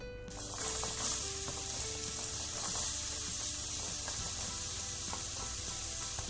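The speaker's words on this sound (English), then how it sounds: "Now that our butter is melted, I'm gonna add half an onion." Half a small onion sizzling in melted butter in a pot on medium-low heat for broccoli soup, a steady bright frying hiss throughout with faint stirring clicks, close and continuous.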